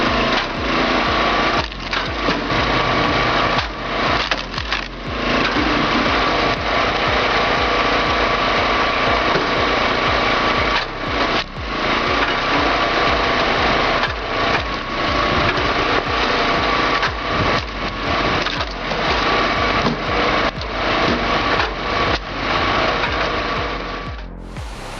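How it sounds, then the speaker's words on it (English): A powered log splitter runs loud and continuous, its engine holding a steady high-pitched drone for the whole stretch, with short dips and knocks as logs are split. "I get a little nervous watching that splitter fly like that."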